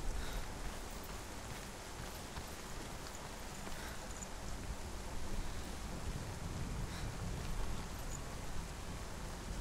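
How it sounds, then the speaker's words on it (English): Steady rain falls in the video game Hellblade: Senua's Sacrifice, a continuous broadband hiss with soft pattering that holds at an even, moderate level throughout, with no talking over it. "And it's raining right now."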